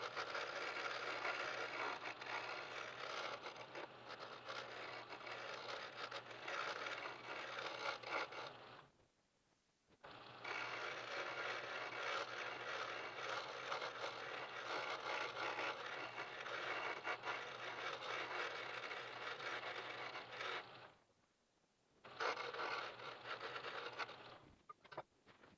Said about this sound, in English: All of this turning is just freehand. I'm not that great on a wood lathe